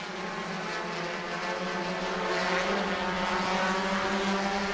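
Stock-style race cars in a heat race on the oval at New Smyrna, a loud continuous engine roar from the pack coming off turn two, droning and swelling slightly with no clear pauses.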